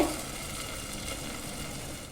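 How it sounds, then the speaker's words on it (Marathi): Ghavan batter made from varai rice flour sizzles steadily on a hot griddle, a soft, even crackle and hiss that continues without pause and without any voices. "आता आपण बिड्यावरती घावना टाकून घेऊया"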